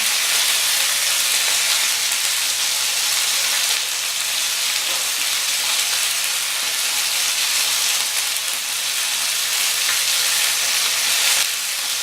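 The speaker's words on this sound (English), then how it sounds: "we're just going to let those sear on that first side" Chicken pieces searing in a big cast iron pan, a loud, dense, unbroken hiss of hot fat sizzling close up for the whole stretch, with no stirring or voices.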